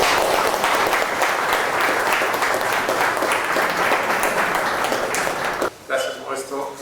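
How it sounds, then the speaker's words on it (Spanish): A lecture audience at a university in Peru applauds as the speaker Enrique is introduced for a talk on the quantum revolution; dense, steady clapping fills the room, then fades near the end as a voice begins speaking. "Un aplauso para Enrique."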